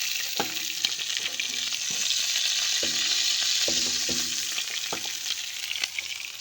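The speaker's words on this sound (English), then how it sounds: "I don't want to be just deep frying, well, shallow frying" Steady hiss and crackle of rabbit meat shallow frying in a hot pan, with occasional clinks of a utensil against the pan.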